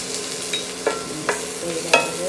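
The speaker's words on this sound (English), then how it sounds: "Saute that a little bit. I put my cauliflower first to get it softened." Cauliflower being sautéed with lightly browned garlic in a pan for a keto veggie stir fry, soft sizzling with a few sharp scrapes and clinks of a utensil stirring, close and without talk.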